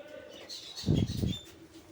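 A short flurry of pigeon wings flapping nearby, rising suddenly and fading, with soft coos and chirps in a quiet background.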